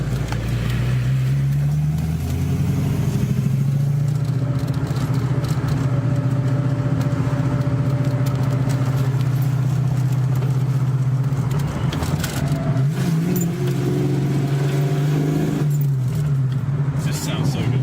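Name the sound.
car engine idling and revving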